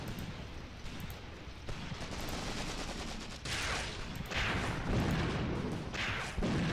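Artillery fire and battlefield explosions in the WWII strategy game Cross of Iron: Mius Front, a dense continuous roar of booms and gunfire that swells louder in several heavy bursts, with no talk over it.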